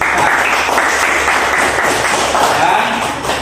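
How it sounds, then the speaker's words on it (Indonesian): Classroom applause from a group of students, steady continuous clapping filling the whole stretch with a faint voice or two underneath. "Kasih aplaus."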